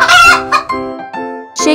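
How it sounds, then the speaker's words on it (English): A rooster crows loudly and close by in one long drawn-out call that rises and then falls, followed by a few shorter trailing notes. No voices are heard around it. "Chicken."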